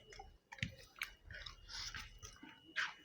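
Close, wet chewing of mutton biryani, with irregular smacking bites and a few sharp crunchy clicks, no speech.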